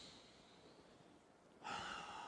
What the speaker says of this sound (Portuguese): Inspira e expira